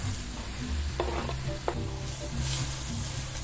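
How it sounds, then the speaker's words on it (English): Cumin seeds, onion and shallots frying in oil in a pot, a steady close sizzle with a few sharp clinks and scrapes of stirring. "we're gonna throw in our cumin seeds. We're gonna fry those for 15 seconds. And then we're gonna add our onion and shallots."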